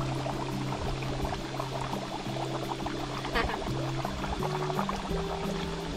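Water bubbles and gurgles steadily up from the ground, a continuous liquid burble close by with low tonal hum underneath.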